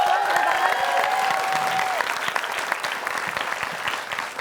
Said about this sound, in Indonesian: Silakan, Ridwan, tepuk tangan.